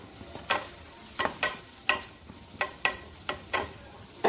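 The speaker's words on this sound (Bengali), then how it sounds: "আর আমি কিশমিশটা এর মধ্যে দিয়ে দিলাম, দিয়ে ভালো করে ভেজে নিতে হবে।" Raisins tossed into hot oil in a pan while preparing a semolina evening snack, giving soft sizzling broken by sharp, evenly spaced scraping stirs of a spatula, close and moderately loud with no talking.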